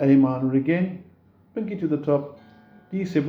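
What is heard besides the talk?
No distinct noise like a dog, phone or traffic.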